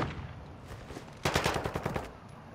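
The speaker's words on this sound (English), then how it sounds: "Their bots are shooting it out with somebody over that way." Bots in a first-person shooter trade gunfire somewhere off to one side, a quick rattling burst of automatic shots cutting through quiet background noise.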